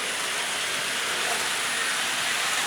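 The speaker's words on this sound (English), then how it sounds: "that's a good running little train now" Restored model train locomotive running on track in a Christmas train display, a steady close hiss and rumble with faint rail clatter, continuous and fairly loud, no talking.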